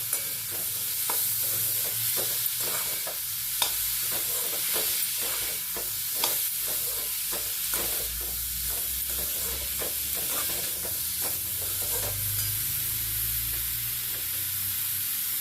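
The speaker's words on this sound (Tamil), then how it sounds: "அதையும் போட்டு இதில் வதக்கணும்." Chopped country tomatoes sauté in a pan for a Chettinad tomato curry, a steady close sizzle and fry with repeated scraping stirs of a spoon throughout, no talking.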